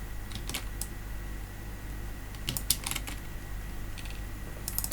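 Sparse bursts of clicking keys on a computer keyboard as Python code is copied and pasted, a few quick taps in clusters separated by short quiet gaps over a faint steady hum.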